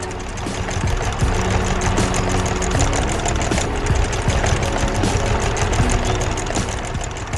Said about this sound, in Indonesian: Traktor kuning sedang bekerja keras di ladang yang sudah dibajak.